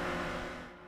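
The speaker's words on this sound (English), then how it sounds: "This is the sound of a Toyota GR Supra deep in a drift." Toyota GR Supra held deep in a drift, a loud, dense, steady engine roar with broadband tire noise that fades slightly toward the end, no voices.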